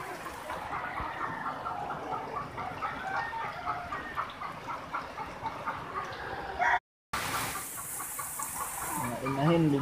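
Gamecocks and hens caught in a deep flood cluck and call steadily amid watery background noise, with a brief dropout near the seven-second mark and a louder, brighter stretch after it.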